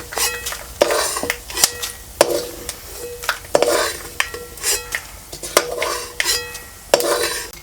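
Whole spices for black masala, including cloves, peppercorns and fenugreek, are stirred and roasted in a pan, with repeated scraping and clinking strokes of a spoon against metal in an uneven rhythm, close and fairly loud, with no talking.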